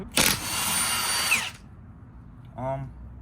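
A power tool on a BMW F8x suspension arm nut lets out a sharp hit and about a second of loud whirring before cutting off, followed by a short burst of talk.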